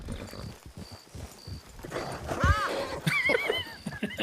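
A horse clip-clops rapidly over the ground in a steady, quick rhythm, then lets out loud, close whinnies and snorts as the pace picks up.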